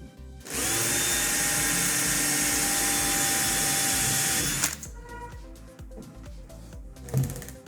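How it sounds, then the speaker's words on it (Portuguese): A power drill whines loudly at a steady high pitch for about four seconds while drilling holes to install a profile cabinet handle, then stops, leaving quieter handling noises and a brief knock. "Que aqui é a máquina, eu sei que não vai escapulir a broca"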